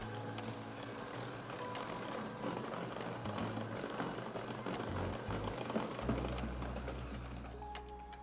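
Electric mixer whirring steadily as a large egg and vanilla extract are beaten into almond flour cookie batter, a continuous mechanical hum with a slight shift in pitch near the end, no talking.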